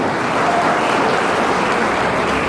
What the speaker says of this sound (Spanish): Al escuchar esos aplausos